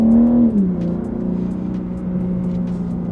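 BMW G80 M3 pulling hard on a track, a loud, steady engine drone that shifts pitch early on, then holds a strong sustained tone close by.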